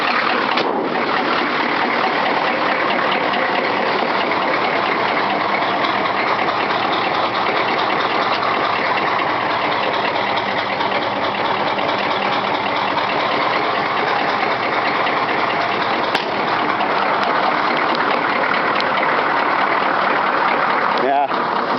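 A truck engine idles after a cold start with a continuous, even rumble and hiss that stays loud and close throughout, steady with no change in pitch.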